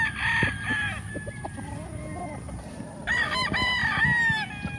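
Roosters on a Philippine breeding farm crow loudly and near, one long crow at the start and another overlapping crow later, with scattered clucking and farm noise between.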